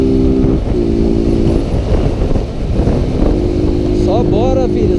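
Honda Fan 160 motorcycle from 2022, engine running loud and steady with rising and falling revs as it accelerates through the gears, heavy wind noise throughout and talk over it.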